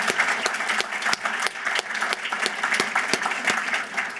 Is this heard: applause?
yes